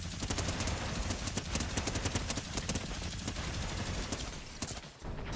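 Cannons in the video game Fortnite fire in a rapid, dense barrage of booming blasts, loud and continuous over a noisy battle backdrop.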